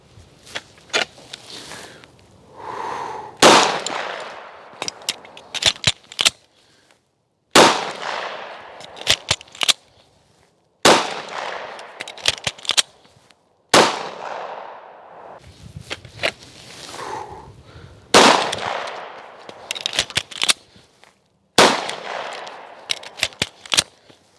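Handgun shots fired during a spare magazine reload drill, loud sharp reports in quick strings, each burst broken by brief pauses for magazine changes, repeating over and over with no talking.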